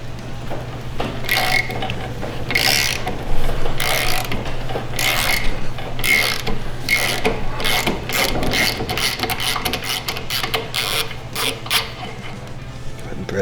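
Number 6 Allen wrench turning and unthreading a tight part from a 22760 unloader, giving steady close ratcheting metallic clicks in quick irregular bursts over a constant low hum, with no talking.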